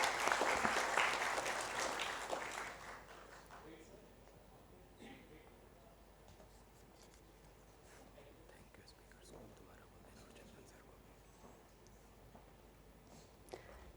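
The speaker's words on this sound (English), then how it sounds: "May we have a big round of applause from the audience" Applause from a conference audience at a summit, a burst of clapping in the first two or three seconds that fades quickly into faint room noise with some soft murmuring.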